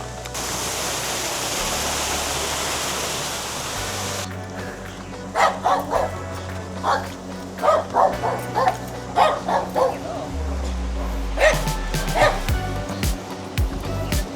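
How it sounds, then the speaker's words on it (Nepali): A dog barks in a series of sharp, close yips and woofs at an uneven pace, after a stretch of steady rushing noise, with no talk. "भुक्छ अनि फेरि आफै भाग्छ।"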